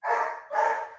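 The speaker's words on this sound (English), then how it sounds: "those dogs are loud" Dogs barking, two loud, close barks in quick succession with a short gap between them.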